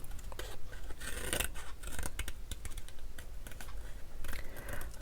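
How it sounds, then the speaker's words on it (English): Scissors snipping around a paper butterfly, with quick, close, crisp cuts and rustling paper in an irregular rhythm and no talking. "we're going to cut it out with the butterfly"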